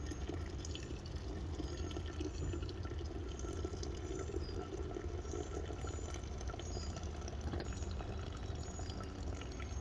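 Blonde ale wort drains after the boil as hops are removed, giving a steady, continuous pouring and trickling of liquid with faint drips, moderately loud and unbroken for the whole stretch.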